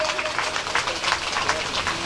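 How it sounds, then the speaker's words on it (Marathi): An audience at a Dhamma Abhiyan community gathering claps together in a dense, steady burst of applause that lasts the whole moment. "प्रथम सर्वांनी एकदा जोरदार टाळ्या होऊन जाऊ द्या"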